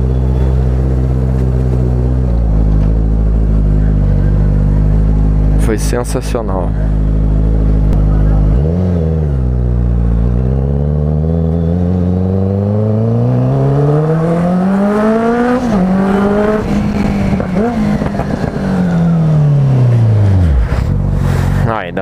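A motorcycle with a new 4x2x1 full exhaust and a large muffler rumbles deep and loud from close by, revving up and down in long sweeps, while someone talks over it.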